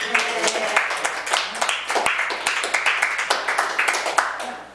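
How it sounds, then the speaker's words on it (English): Audience clapping and applauding for a trolley line's vegan options, brisk clustered claps from a smallish crowd, close and lively, with voices mixed in. "Should we give the trolley line and a round of applause for having vegan options?"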